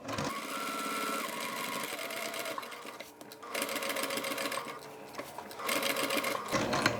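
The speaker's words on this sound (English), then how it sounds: "What we're going to do now is just sew around here on the outside, 1/8 of an inch seam allowance." A sewing machine stitches around a zipper pocket panel for a bag, its motor whirring in steady runs that pause briefly and start again, close and fairly quiet.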